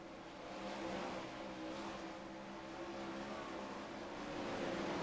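410 sprint cars racing through a heat race on the Limaland dirt track, their engines blending into a steady, distant roaring drone that holds for the whole stretch.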